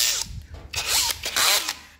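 A cordless drill spinning a valve lapping tool on a Honda CB300 valve whirs in short bursts, starting and stopping several times, loud and close with a grinding edge.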